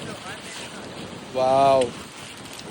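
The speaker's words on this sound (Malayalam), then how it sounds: "കാറ്റ്, അസല് കാറ്റ്." Strong wind sweeps across Kozhikode beach at night, a steady close roar of air and surf that runs the whole time, with a brief spoken exclamation midway.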